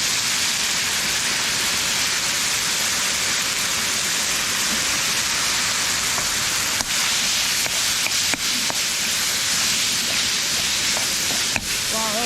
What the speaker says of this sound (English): I just want to brown up the meat